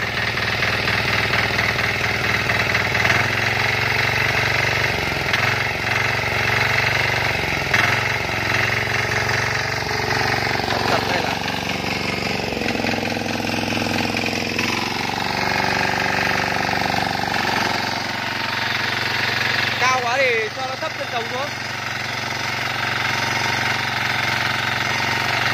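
A 2020 Trâu Vàng diesel tiller churns abandoned farmland, its engine loud and close as a steady chugging drone that shifts pitch under load throughout, while a voice talks briefly over it.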